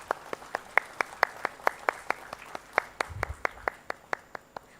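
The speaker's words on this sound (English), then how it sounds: "a big round of applause" A single person or a few people clap in a steady, evenly spaced rhythm at a textile expo launch event, sharp distinct claps with no crowd roar, close and moderately loud.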